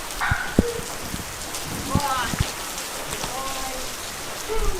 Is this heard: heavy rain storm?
yes